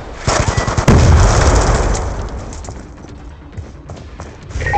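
A grenade goes off in Black Ops II with a loud, sharp blast and a rumbling tail that fades over a few seconds, set against clattering gunfire.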